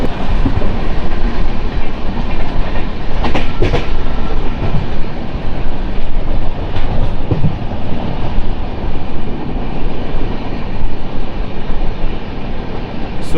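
Goods train passing on the line near Sundur station, loud continuous rolling rumble with clickety-clack of wheels over rail joints, heard close from a moving passenger express for the full stretch.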